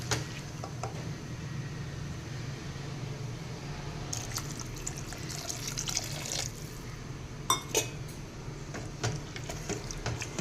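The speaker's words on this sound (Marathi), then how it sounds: "थोडंसं पाणी घालूयात" Water poured into a pot of spicy urad dal curry seasoned with Kolhapuri onion-garlic masala, a continuous soft splashing trickle with a few brief clinks near the end.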